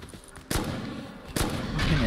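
Heavy machine gun fire from an M2 in the game Rust, heard as two loud, sharp broadband bursts about a second apart over a low, rumbling background.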